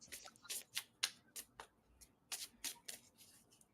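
A deck of tarot cards shuffled by hand close up, with quick bursts of riffling and soft card slaps arriving in an uneven rhythm, fairly quiet, with no talking.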